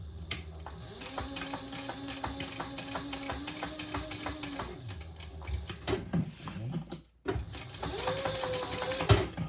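A sewing machine runs stitches through a vinyl laptop bag with a humming motor whir in a few bursts of a few seconds each, faint and close, with brief pauses and small handling clicks between.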